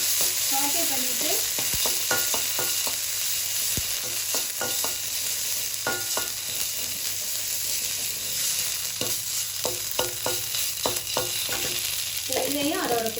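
Food sautéing in a pan with salt, with a steady sizzle and frying hiss throughout and repeated scraping and clinking of a utensil stirring against the pan, with no talking.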